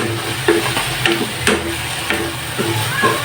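Meat and vegetables sauté in a hot pan, a steady sizzle broken by a few short stirring scrapes, close and fairly loud.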